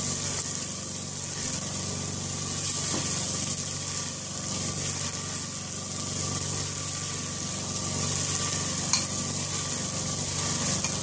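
Pepper steak fries in a hot pan, a steady loud sizzle with a broad hiss that continues unbroken, close up, with a faint occasional tick of a utensil and no voices.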